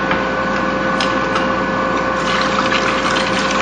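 About two-thirds of a liter of water pours into a soap-making mixture of raw glycerol in a lab, a steady, close, continuous liquid rush with faint ticking, and no speech.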